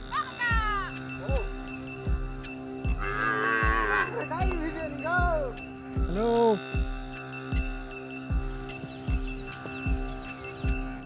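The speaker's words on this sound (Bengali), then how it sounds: "গরুগুলো অসাধ্য সাধন করলো তারা নদীটা সাঁতরে চলে আসলো এই পারে" A herd of cattle that has just swum across a river lows repeatedly, with several drawn-out moos rising and falling over a steady low hum and rhythmic thumping.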